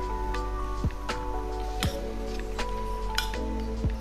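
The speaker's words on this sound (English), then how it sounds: "I'm gonna mix the 1 tablespoon of ghee right in here" A spoon stirs a tablespoon of ghee into steamed broccoli in a pan, giving a steady series of crisp metallic clinks and taps against the pan at a relaxed, even pace.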